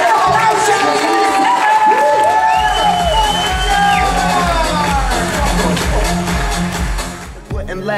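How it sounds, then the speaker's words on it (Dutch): Loud crowd cheering and applause with whoops and shouts at a Kunstbende Friesland 2017 preliminary round, mixed with booming music throughout, cutting out near the end. "Geef iedereen nog één keer een allerlaatste applaus"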